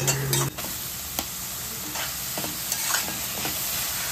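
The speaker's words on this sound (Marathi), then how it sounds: "सर्व छान आपल्याला कांदा आणि मिरची परतून घ्यायचे तेलावर 1 मिनिट" Chopped onions and green chillies sauté in hot oil with a continuous close sizzle, broken by a few brief scraping stirs of a spatula.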